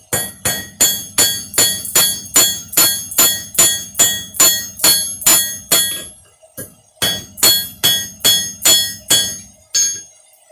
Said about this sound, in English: this particular anvil, really loves to ring and sing